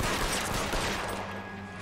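Gunfire in the detective game L.A. Noire, a faint, continuous rattle of distant shots blended with background game noise.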